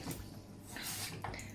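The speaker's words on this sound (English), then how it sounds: "Let's put some water in." Lukewarm water poured into a bowl for barm brack dough, a steady close splashing pour lasting about a second and a half, fairly quiet with no talk.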